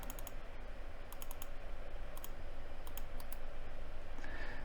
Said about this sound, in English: if I double click on this